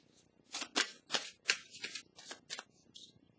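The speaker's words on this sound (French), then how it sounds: "Je vais piger une carte ici pour le 1 et le cadeau" A tarot card being drawn, a quick run of crisp papery flicks and snaps from handling the deck, about eight short bursts in close succession, near and clear in a quiet room.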